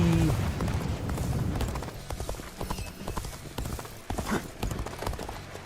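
Horse hooves clip-clop at a steady gallop in the battlefield game Dynasty Warriors: Origins, loud and close, with a faint whinny and muffled battle noise around them.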